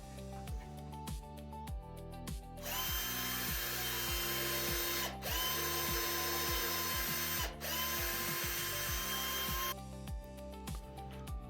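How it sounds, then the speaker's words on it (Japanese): A cordless electric drill driver bores holes through wooden boards for a Japanese honeybee hive, whining loudly in long sustained bursts with short gaps and clicking spin-ups at start and end, close, with no talking. "電動ドライバーにビットを付け替えて作業を続けます。"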